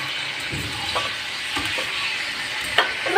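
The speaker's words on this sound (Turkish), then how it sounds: "kızartıyoruz yani domatesleri bildiğin." Steady sizzling of tomatoes frying in a pan, with occasional soft clinks and stirring scrapes, no talking.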